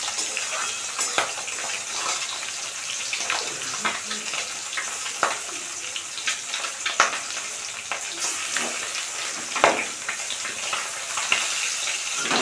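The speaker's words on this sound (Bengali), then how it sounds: "কলের কাছে অনেকগুলো বাসন পড়ে আছে, বাসনগুলো মাজবো।" Dishes being washed under a running water tap in a home kitchen: a steady hiss of flowing water with scattered clinks and scrapes of utensils throughout, close and continuous.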